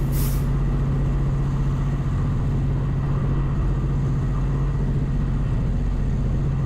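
A Pacific Surfliner diesel train pulls away in Train Sim World, its engine holding a steady low drone throughout with a brief burst of air at the very start.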